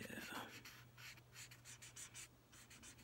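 Chisel tip of an STA art marker scratching across paper, a faint dry rhythmic scraping of short strokes, quiet and close, with a steady low hum underneath.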